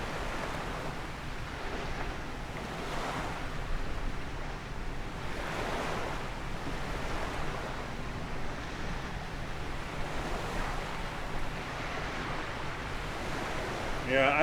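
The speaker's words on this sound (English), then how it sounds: "What I meant is where waves break" Ocean surf breaks on the shore in Microsoft Flight Simulator 2020, a continuous roar that swells and ebbs every couple of seconds, mixed with wind rush and heard alone.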